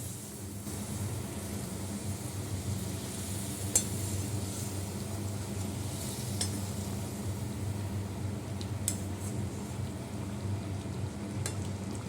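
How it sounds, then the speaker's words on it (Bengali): Meat simmering in a pot after hot water is added for a thick gravy, giving a steady low bubbling and sizzling hiss with a few faint clinks, close and even throughout with no talk. "গরম জল দিয়ে দিচ্ছি, মাংসটা একটু সিদ্ধ হবে।"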